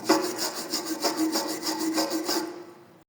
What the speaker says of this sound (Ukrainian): Збиваємо шлак, зачищаємо щіткою по металу.